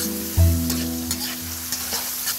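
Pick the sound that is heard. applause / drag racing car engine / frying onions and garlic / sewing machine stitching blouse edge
frying onions and garlic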